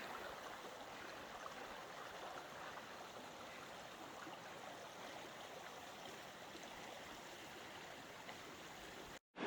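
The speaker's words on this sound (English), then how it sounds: "You can hear the rapids." The rapids at the bottom of Tibbets Falls, a series of cascading falls, give a steady, even rush of water that runs faint and unbroken before cutting off abruptly at the end.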